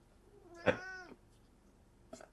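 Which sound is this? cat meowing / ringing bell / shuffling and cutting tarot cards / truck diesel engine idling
cat meowing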